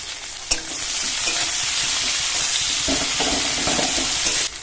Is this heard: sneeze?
no